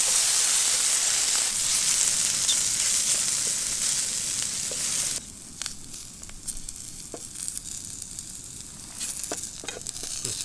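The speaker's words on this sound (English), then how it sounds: "They're getting a nice sear on them now as well." Foraged food searing in a pan gives a steady sizzle with hiss and bursts of steam, loud at first and then quieter and crackly from midway, with no talk.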